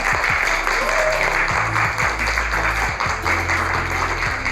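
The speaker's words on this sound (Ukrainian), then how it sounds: "Аплодисменти." An audience at a Dynamo Kyiv children's celebration gives a sustained round of clapping for the club's footballers, steady and fairly loud, with low tones and a few voices mixed underneath.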